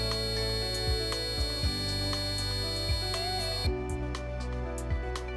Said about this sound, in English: Use your serial monitor to determine if your light sensor is dark enough to force the Piezo Buzzer to emit a sound.